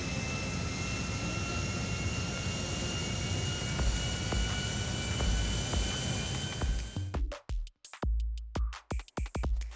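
An airplane flying to Grapeseed airfield in the FiveM game, a steady loud engine roar holding for about seven seconds, then breaking into choppy, cutting bursts near the end.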